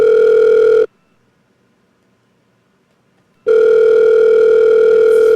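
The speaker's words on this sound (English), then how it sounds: "It's ringing for a long motherfucking time." Loud, close electronic telephone ring: a buzzy tone, a long silent pause, then the same tone again.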